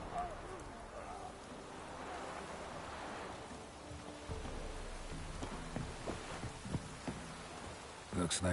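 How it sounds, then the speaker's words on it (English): Steady rain hisses over ambient game music in The Witcher 3 on Fyke Isle, a continuous wash of drizzle with scattered tonal notes and a sharp sound near the end. "looks like rain."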